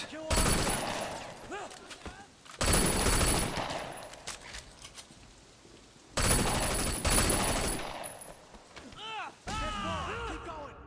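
Gunfire in the video game Sleeping Dogs comes in loud sustained bursts of rapid automatic shots, broken by short lulls, while a player talks over the action.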